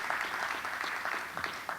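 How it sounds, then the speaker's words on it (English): Audience applause at a Hamptons Institute panel event, a dense patter of clapping hands that is steady and moderately distant, with a murmur of voices faintly underneath. "A round of applause, please, and the co-sponsors."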